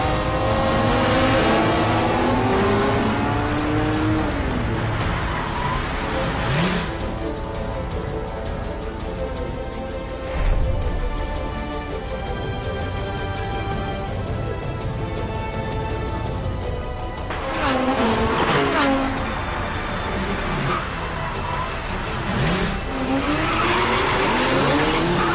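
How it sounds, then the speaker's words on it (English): A Porsche GT3 and a Lamborghini Gallardo race through the streets of Paris, engines roaring and revving through gear changes while tires squeal and skid repeatedly, loud and close throughout. "a Porsche GT3 raced a Lamborghini Gallardo through the streets of the City of Lights"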